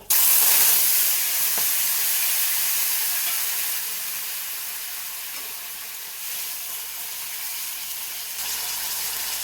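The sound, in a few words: black cumin and tomato added to hot oil, sizzling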